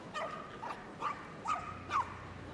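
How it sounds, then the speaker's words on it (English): A small Papillon at a Crufts agility competition gives four or five quick, high yips in a row, fairly faint against the hall's background. "And Puzzle is a Papillon, he's 6 years old"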